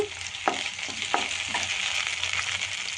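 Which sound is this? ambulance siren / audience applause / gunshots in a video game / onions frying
onions frying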